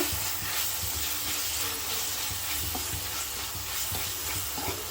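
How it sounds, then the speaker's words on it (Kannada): Onions frying in hot oil for a chicken fry, a soft steady hiss and sizzle with faint stirring scrapes, fairly quiet and continuous, no talking. "ಈರುಳ್ಳಿನ ಇವಾಗ ಚೆನ್ನಾಗಿ ಫ್ರೈ ಮಾಡ್ಕೊಂಡಿದ್ದೀವಿ"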